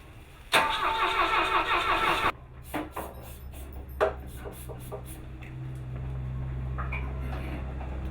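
Car engine cranking with a fast whirring starter for about two seconds, followed by clicks and sputters, then a low idle rumble settling in close by.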